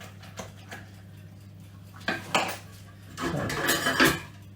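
Spoon or ice cream scoop clinks and scrapes while portioning lumpy bran, carrot and Marmite muffin batter into cases, a few close knocks early then a busier cluster of scraping near the end, over a steady low hum with a brief spoken word.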